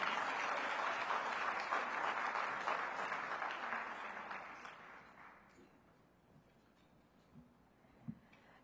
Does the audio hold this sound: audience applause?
yes